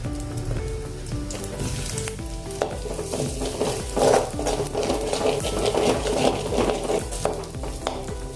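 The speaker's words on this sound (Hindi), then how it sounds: "अभी जीरा तड़ने लगा है" Cumin seeds and asafoetida sizzle and crackle steadily in hot oil, with occasional stirring scrapes in the pan, close and continuous without talk.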